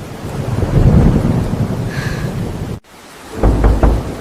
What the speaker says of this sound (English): Will the rain ever stop?